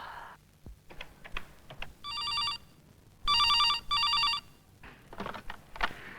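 A telephone rings during a call to an office, sounding as two loud electronic ringing bursts close by, the second longer than the first, between quieter clicks and shuffling.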